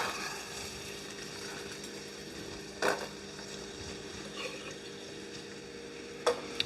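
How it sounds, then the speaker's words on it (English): Carrots tossed into a pot of ham and potato soup, a soft clatter and splash at about three seconds and again near six, over a steady low simmer and sizzle with no talking. "All right, chuck in the carrots."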